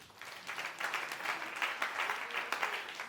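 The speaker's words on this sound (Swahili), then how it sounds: "Hebu mpigie Bwana makofi." A church congregation applauding, many hands clapping together in a continuous, moderately distant roar that holds steady for a few seconds, with faint voices mixed in.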